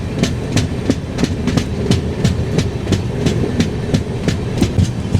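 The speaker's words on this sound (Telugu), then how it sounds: "సో దానివల్ల మళ్ళీ స్లో అయింది ట్రైన్." An AC double-decker train between Tirupati and Visakhapatnam rolls slowly over the rails, its wheels clicking over joints in a steady irregular rhythm under a constant rumble, heard close from inside with no talking.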